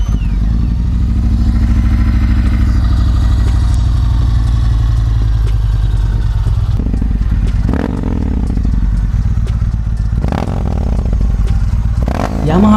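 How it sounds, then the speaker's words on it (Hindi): Yamaha MT series motorcycle engine revving loudly, a steady deep exhaust drone with sharp throttle blips and rising bursts near the end, close and continuous with no other sounds. "जो सबसे मेन एरिया था जिस पर यामाहा की डेवलपमेंट टीम काम कर रही थी वो थी इस बाइक की एग्जॉस्ट नोट।"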